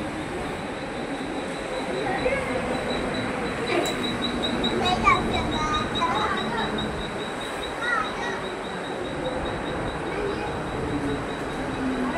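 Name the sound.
local commuter train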